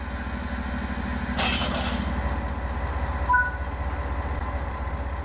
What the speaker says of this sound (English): Now uncouple the locomotive from the wagons